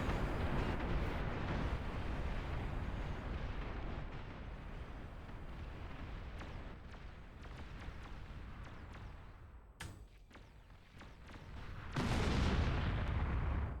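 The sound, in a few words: nuclear missile launch in a video game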